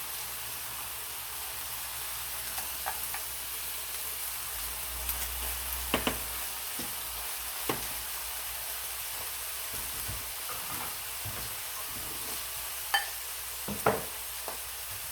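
Food cooks in a pan under a poured mustard dressing, a steady low sizzle and hiss with a few scattered soft pops and clicks, and no voices.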